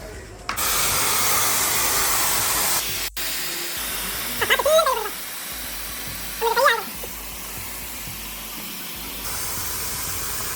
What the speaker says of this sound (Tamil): வாங்க முதல்ல காற்று இறக்கும்.